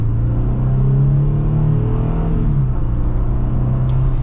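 A 2025 Jeep Wrangler with a V6 engine and automatic transmission revs hard under acceleration, a loud, steady engine drone close by that climbs and then drops back partway through.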